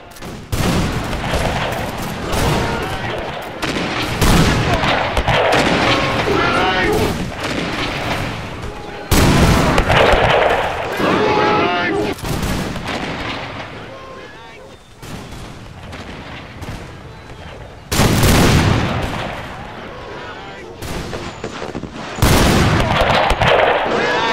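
Battle from the Anglo-Zulu War at iNyezane in a video game: dense, continuous rifle volleys and booming artillery, loud and close, with repeated surges of heavy firing.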